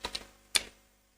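A computer keyboard sounds a few sharp, close keystroke clicks: two quick taps, a pause, then one louder click that fades out into quiet.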